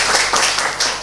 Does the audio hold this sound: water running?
no